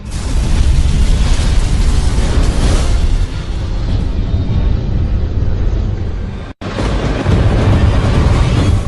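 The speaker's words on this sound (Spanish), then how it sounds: "Vi una explosión enorme." A plane explodes on a runway in a huge blast that roars as a sustained, dense rumble, loud and continuous, with a brief cut near the end before the roar resumes.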